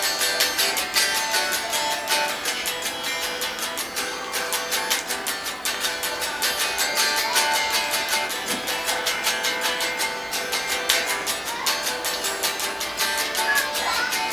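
Acoustic guitar song in standard tuning plays steadily throughout, a continuous strummed and picked part with dense bright harmonics at an even level, no voices over it.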